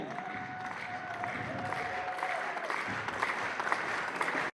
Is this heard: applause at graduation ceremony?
yes